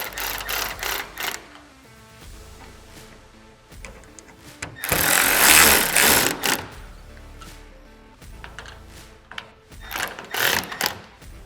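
A bolt on a flip windshield on a Kawasaki Mule Pro FTX is tightened down in bursts of rapid mechanical ratcheting clicks, loud and close, with pauses between the runs of turning.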